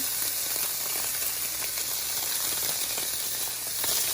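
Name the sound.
thin vegetable slices frying in olive oil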